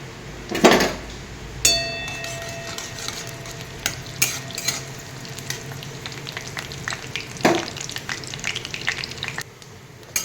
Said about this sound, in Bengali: তেল গরম হয়ে গেছে, দিয়ে দিচ্ছি জিরে, সাদা জিরে, শুকনো লঙ্কা